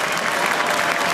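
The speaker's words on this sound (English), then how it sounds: "We're going to get applause for Usman Khawaja." A Test match cricket crowd applauding as a batter walks onto the field in an Ashes Test, a dense, steady roar of clapping from a large stadium audience with no pauses.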